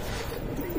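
A pigeon coos softly and briefly, a low murmuring call set against a steady background hiss.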